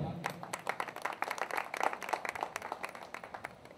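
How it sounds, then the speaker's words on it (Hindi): Audience applause for the judges at a stage event, a dense run of clapping lasting several seconds with a steady crowd texture. "हम चाहेंगे कम से कम जोरदार तालियां आप लोग जरूर हमारे जजेस के लिए बजाएं"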